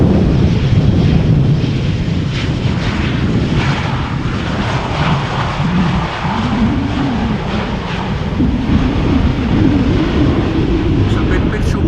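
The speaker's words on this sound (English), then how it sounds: "Aer Lingus arriving from Dublin" Aer Lingus airliner arriving from Dublin at Schiphol Airport, a loud sustained jet roar with shifting rumbling tones throughout, close and constant without a break.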